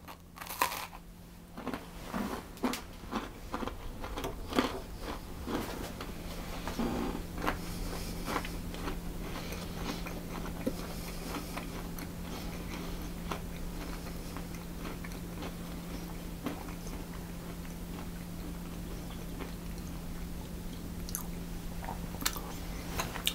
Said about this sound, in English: So it's nice and crunchy on the outside, but it's soft and got that meringue chew to it on the inside